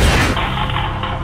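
A loud explosion booms in a house backyard, a dense roaring blast that starts at full force and rumbles on as a broad, sustained crash.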